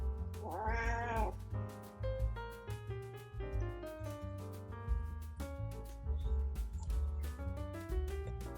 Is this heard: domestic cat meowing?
yes